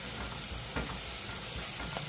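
Minced large onion frying in a pan, a steady close sizzle with soft crackles and occasional stirring scrapes, no voices.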